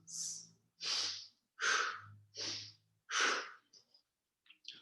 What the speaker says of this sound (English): Nasal breathing, please.